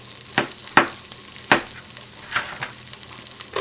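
Sliced mushrooms sizzle in melted butter over medium-high heat, a crackling hiss close by, punctuated by several sharp taps and scrapes as pieces drop into the pan, with no one speaking.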